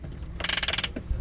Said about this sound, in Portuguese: freio de mão